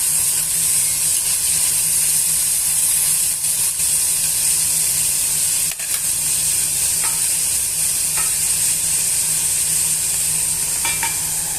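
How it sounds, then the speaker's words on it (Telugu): Onion and green chilli pieces fry in a pan with a steady, loud sizzle, broken by a few light clinks of a spoon stirring. "ఇవన్నీ కూడా వేయించుకోవాలండి ఉల్లిపాయ ముక్కలు పచ్చిమిరపకాయ ముక్కల్ని మగ్గనివ్వాలి"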